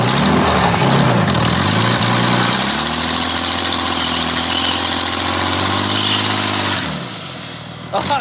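A twin-turbo Ford AU Falcon engine idles steadily and close by, its low harmonic drone holding for several seconds before dropping away near the end.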